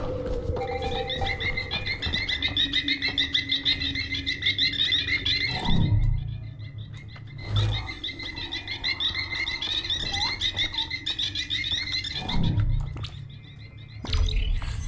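Bird chirping from a puffer bird in the video game Journey to the Savage Planet, bright repeated high tweets running steadily throughout, mixed with croaking, frog-like ambient calls and a few soft low thuds.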